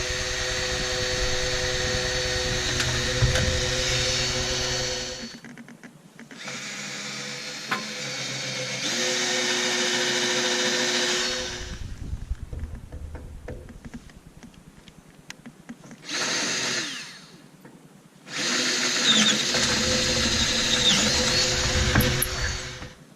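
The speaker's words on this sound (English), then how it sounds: "So I'm going to be drilling through here" A power drill bores through a metal light-bar mount in several long bursts of whining, grinding motor noise, broken by pauses with quieter handling sounds and spin-downs, with no voices.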